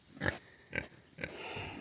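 Little pigs on a farm give three short grunting squeals about half a second apart, fairly close, followed by a softer continuous shuffling and snuffling.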